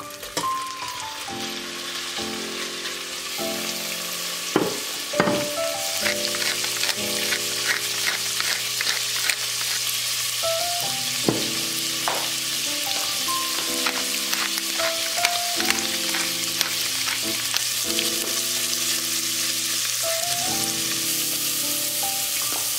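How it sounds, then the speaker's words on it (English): Salmon fries in butter in a pot for chowder, a steady close crackling sizzle with scattered pops and light clinks throughout, no voices. "we're gonna get some butter, we're gonna fry up the salmon first"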